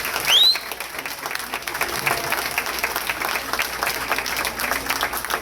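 Audience at a community sewer meeting breaking into applause, a steady crowd of clapping hands with a short voice or whistle at the very start.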